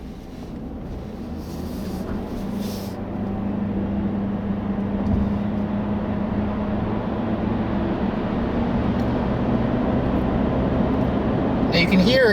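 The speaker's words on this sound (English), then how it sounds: "I'll give you another acceleration run in hold mode so you guys can hear how loud it is." A steady gas-engine drone from a 2016 Chevrolet Volt hybrid in hold mode that gradually grows louder as the car accelerates toward highway speed, heard from inside the cabin with constant road noise beneath it.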